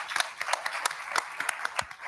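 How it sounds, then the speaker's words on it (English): Audience at a board of education meeting clapping, a brief scattered round of applause of moderate loudness from a modest crowd. "give her a round of applause, most deservingly."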